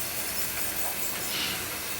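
Kato N scale model train locomotives run along a layout, a continuous soft hiss and rolling whir with faint, even track noise, close and steady throughout a short stretch.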